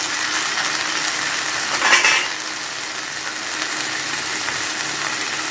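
Onion and tomato frying in a pan for dal tadka, a continuous close hiss and sizzle with a brief stirring scrape partway through.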